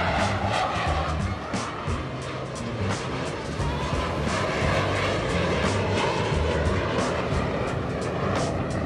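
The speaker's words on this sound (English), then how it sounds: "This is Argentina's presidential Boeing 757, and this is apparently called a wing salute." Argentina's presidential Boeing 757 performing a wing salute overhead, a steady broadband jet engine roar that stays loud and constant throughout.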